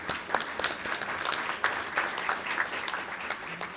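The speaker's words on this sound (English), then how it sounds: "Let's give them a big round of applause." Applause from an audience at a county and college press conference on the lithium industry, a steady spread of many hands clapping at moderate loudness throughout.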